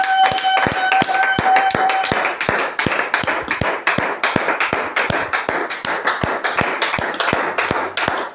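A church congregation claps in a steady, brisk rhythm, the sharp hand claps repeating evenly and close by for about eight seconds, with a faint sustained tone under the first couple of seconds.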